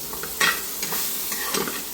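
Large prawn legs frying and being stirred in a pan, a close, continuous sizzle broken by a few scraping stirs, with no voices.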